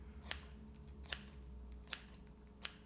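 Blending scissors cutting hair in a home pixie cut, with four crisp snips spaced under a second apart, close and quiet, with no voices.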